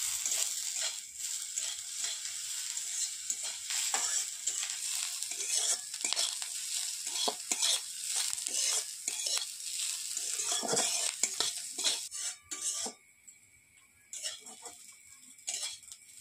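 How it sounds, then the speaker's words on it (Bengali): Vegetables with chopped green chilli and ginger being stirred in a hot pan, a steady sizzle with repeated scraping and ticking of the spatula for most of the stretch, then quieter, sparser stirring near the end. "এই সবজিগুলো সবই আমি নেড়ে নিলাম।"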